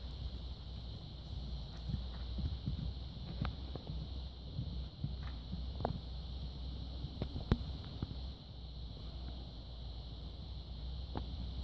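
A horse walks steadily, its hooves clip-clopping in a slow, uneven rhythm of faint, distinct knocks against a constant outdoor hum and light wind noise.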